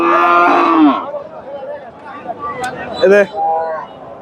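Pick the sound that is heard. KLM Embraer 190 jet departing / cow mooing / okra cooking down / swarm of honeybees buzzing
cow mooing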